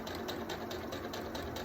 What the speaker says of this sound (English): So let's go back to the sewing machine. I'm just gonna sew,